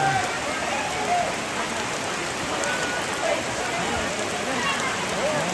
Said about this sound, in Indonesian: ini sudah keras hujan di sini